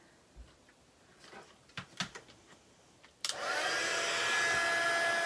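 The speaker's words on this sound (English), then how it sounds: "now we're going to use the heat gun again" A heat gun switches on partway through for embossing ink, bursting into a loud, steady hissing blow after a few quiet clicks and taps, continuing close up to the end.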